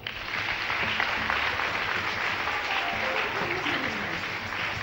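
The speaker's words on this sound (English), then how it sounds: "Clap for Jesus." A church congregation at a Sunday service claps together in sustained, loud applause that fills the room for several seconds, with faint voices mixed in.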